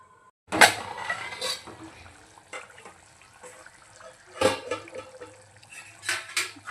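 A metal lid set onto a cooking pot of chicken handi, giving a sharp clatter near the start and a second clank partway through, with faint kitchen rustling in between.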